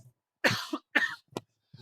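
A person coughs a few times in an audiobook reading, three separate harsh bursts spaced apart with short pauses, close and fairly quiet.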